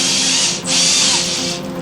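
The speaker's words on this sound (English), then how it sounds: "I just drill it in the middle very gently" A power drill bores out a fretboard dot on a Telecaster neck, running at a loud steady whine that dips briefly mid-clip and then resumes close up.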